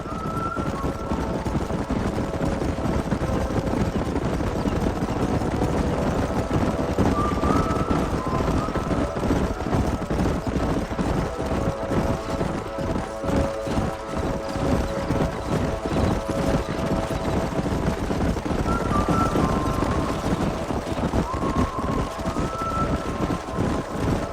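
Horses' hooves clip-clop steadily and continuously in Red Dead Redemption 2 as riders drive a herd up a canyon in Pike's Basin, a dense rhythmic patter under a constant outdoor bed of movement.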